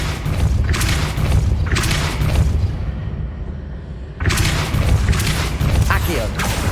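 The Depulso spell in Hogwarts Legacy lands as heavy booming blasts with mechanical rattling, two loud bursts separated by a quieter rumbling lull, with a voice speaking over them.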